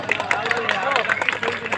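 Audience clapping at a Gajapati Utsav comedy show in Paralakhemundi, a steady crowd applause with bursts of claps and general chatter underneath, a voice speaking over it.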